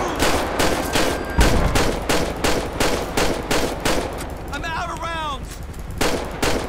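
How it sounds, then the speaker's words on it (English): Rapid gunshots in GTA V during an LSPDFR police shootout, loud, evenly spaced bursts of automatic fire repeating steadily and briefly interrupted by a short whistling sweep before the shooting resumes. "shots fired"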